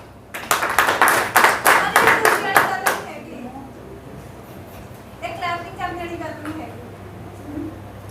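A burst of hand clapping from an audience at a motivational speech, rising quickly then stopping after about three seconds, followed by someone talking over faint room noise.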